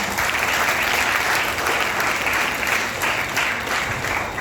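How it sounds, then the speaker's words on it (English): A full audience gives a sustained round of applause at a foundation's event, dense and steady clapping that fills the room at a loud, even level with no talking over it. "a big round of applause to Aditya"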